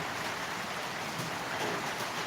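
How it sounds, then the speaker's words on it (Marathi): Steady rain falling outdoors, a constant soft hiss of drops without breaks, fairly quiet and even throughout. "बघा पाऊस पडलेला आहे"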